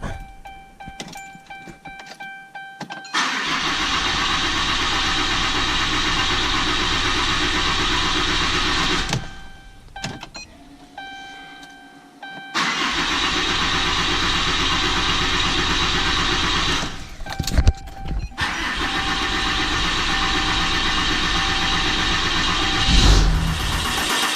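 A Cummins engine cranks and starts, settling into a loud steady idle, then shuts off and is started again with another sustained idle and a few clunks.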